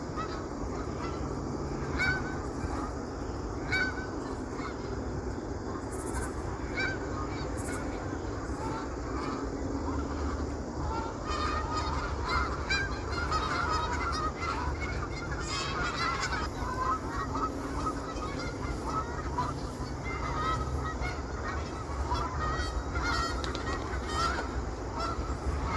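A flock of snow geese honks continuously on the summer tundra, many overlapping calls rising and falling at moderate distance, with young birds among the adults and a steady wash of wind or ambient noise beneath.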